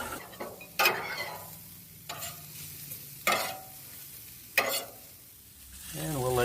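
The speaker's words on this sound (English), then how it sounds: "Now we're going to get our hash browns in there. Right in that delicious bacon grease." Hash browns fry in bacon grease on a Blackstone griddle, with a soft continuous sizzle broken by four sharp metal spatula scrapes and clanks, close and clear.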